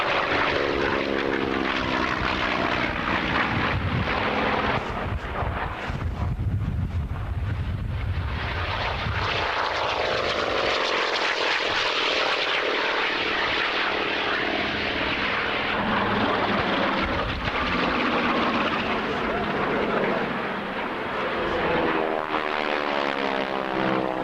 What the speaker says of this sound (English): So that's a TBM Avenger, a Yak 11, a Sky Raider, and a Corsair